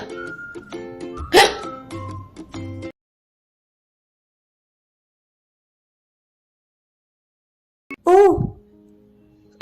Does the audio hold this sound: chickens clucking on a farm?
no